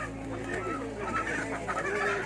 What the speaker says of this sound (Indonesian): Biasanya ayam yang akan dipotong berjenis ayam negeri atau ayam pramuka.